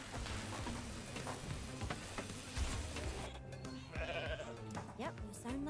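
A person mimics a goat's bleat in short, wavering nasal cries over busy background noise, with talking around it.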